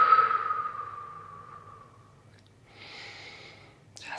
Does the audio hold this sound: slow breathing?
yes